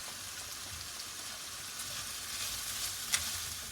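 Onion, garlic and bacon sizzling steadily in a pan while making chicken risotto, a dense crackling hiss with a brief sharper pop near the end, close and without talking.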